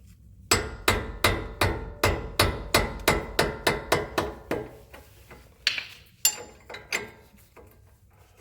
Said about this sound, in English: Same way, use the hammer.